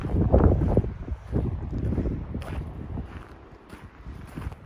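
Wind gusts on a mountainside near trees, surging and fading in uneven waves of low roaring rush with microphone buffeting, loudest early and easing toward the end.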